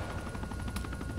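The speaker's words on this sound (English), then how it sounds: "Go, chopper, go." A military helicopter is heard close and loud, its rotor throbbing in a dense, continuous roar with rapid pulsing blade chop and no talk.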